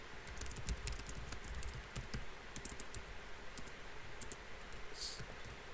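Someone types fast on a computer keyboard during an online community meeting, a quiet, steady patter of close key clicks with no talking.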